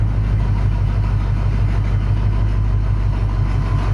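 A Chevrolet C1500 truck engine, swapped from V6 to V8, idles steadily in gear with a low, even rumble and faint rhythmic pulsing, close by with no talking.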